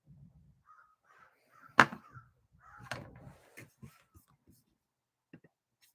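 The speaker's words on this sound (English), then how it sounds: "I need these birds to shut up." Crows caw outdoors in a few loud, separate calls rising above quiet background sounds, with a voice briefly heard talking in between.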